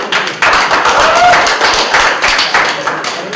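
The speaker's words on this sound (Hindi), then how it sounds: "तालियों से एक दूसरे का स्वागत कीजिए भाई।" Audience clapping together to welcome one another at a public-life talk, a steady spread of close hand claps building after a brief lull and continuing throughout, with some voices mixed in.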